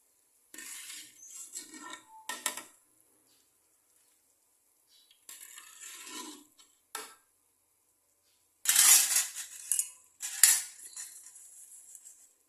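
Fried jalebi lifted from the pan and dropped into sugar syrup, heard as intermittent metallic scrapes and clinks of a utensil in short bursts with quiet gaps between.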